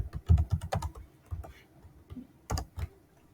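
Code being typed on a computer keyboard, with quick bursts of close, crisp key clicks, a short pause, then a few more taps.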